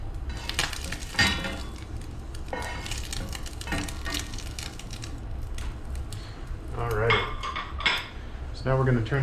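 Scrambled eggs being plated, with cutlery and dishes clinking and scraping in a busy, fairly loud stretch of kitchen clatter, sharper clinks toward the end.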